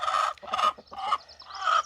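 Chickens on a homestead, heard as a short series of four close, loud squawking clucks in quick succession with brief gaps between them and no talking.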